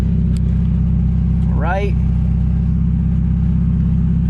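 A Mazda NA Miata engine idles steadily after start-up, a loud, even, low rumble close by, with a brief spoken remark over it.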